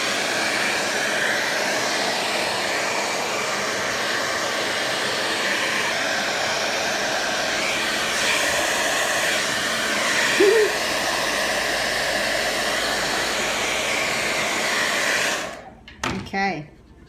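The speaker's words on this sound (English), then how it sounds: "use a hairdryer to help them get going." A hair dryer blows steadily and loudly over melting ice cubes for a long stretch, a constant broadband whoosh that shuts off near the end, followed by brief clatter.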